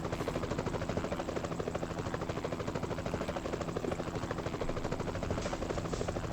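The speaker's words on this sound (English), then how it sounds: "it sounds like a helicopter" Helicopter in the Euro Truck Simulator 2 game, parked under a bridge on a road, its rotor chopping in a fast, steady pulsing beat over a loud engine whine, close and continuous with no talk.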